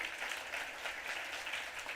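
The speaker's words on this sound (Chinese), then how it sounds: "我们热烈的掌声欢迎" A church congregation applauds to welcome a family, an even, dense patter of many hands clapping that holds steady throughout at moderate distance.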